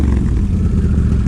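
A 2023 Can-Am Outlander 850 ATV engine, in neutral, revs hard in short bursts through a loud, raspy aftermarket exhaust, close by and continuous.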